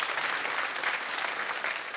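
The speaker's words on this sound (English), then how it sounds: "So a big round of applause for all the men here today." An audience applauding at a stage event celebrating women, with dense, steady clapping from many hands that holds at an even, fairly loud level throughout.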